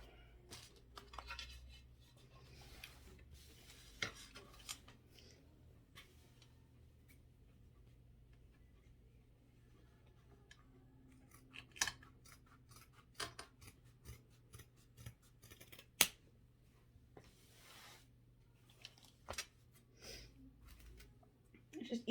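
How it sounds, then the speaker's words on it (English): Scissors snip through excess denim trimmed from a pair of jeans, sounding as quiet, scattered clicks and crisp cuts over low background hum, with a few sharper snips standing out. "I kind of know where I'm cutting this extra fabric off"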